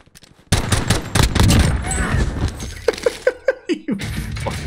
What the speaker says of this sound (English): he's being shot at by somebody else